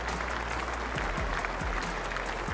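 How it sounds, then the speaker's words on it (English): England team management applaud at the ground during the second Test against New Zealand in 2023. The clapping is dense and steady throughout, with a faint crowd murmur behind it. "Applause from the England management"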